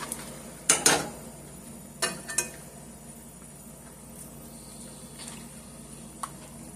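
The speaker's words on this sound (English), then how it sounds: "Just keep giving it a stir." A utensil scrapes and knocks against a pan of beef liver and onions cooking in gravy, a few sharp clinks and scrapes over a low bubbling simmer, close and without talk.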